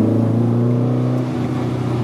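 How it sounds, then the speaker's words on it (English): A 1983 VW Rabbit GTI engine, estimated 250hp, pulls from 1500 RPM in fourth gear with a loud, steady low droning hum from inside the car, no talk over it. "this is an engine that wants to see 8500, and it'll pull away nicely from, you know, 1500 RPM onward"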